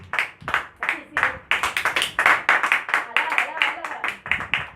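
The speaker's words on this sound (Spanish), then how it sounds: "Yo quiero que le dé palmas a Cristo." A church congregation claps in unison, a fairly close, rhythmic run of distinct loud claps at a brisk steady beat, with voices mixed in among the clapping.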